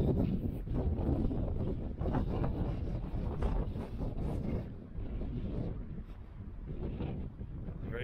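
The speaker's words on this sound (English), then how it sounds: "Very windy" Strong wind roars and buffets steadily at Seal Bay on Kangaroo Island, a dense low rumble with gusty swells, as if blowing hard over open water.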